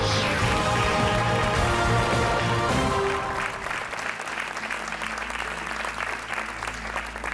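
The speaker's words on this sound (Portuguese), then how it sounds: "um aplauso para o Hernani e para o João" Studio audience on a Portuguese television game show breaks into loud, sustained applause over bright theme music, which drops away midway as the clapping continues on its own.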